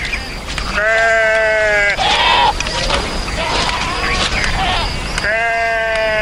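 Sheep bleat loudly and close by in several drawn-out calls, with more animal noise and a steady outdoor rumble between the calls.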